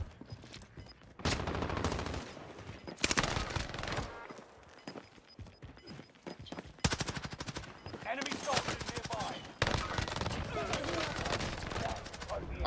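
PPSh submachine gun firing in Warzone Season 2 on Rebirth Island, with long rapid automatic bursts broken by short pauses, loud and close, along with some other game noise.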